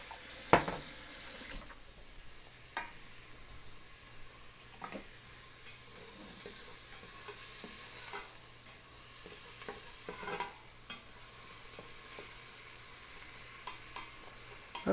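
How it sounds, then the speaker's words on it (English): Onions for chicken vindaloo fry quietly in a pan, a soft steady sizzle broken by occasional clinks and scrapes of a spoon stirring them around. "Give these a little stir around in here. These should brown pretty quickly."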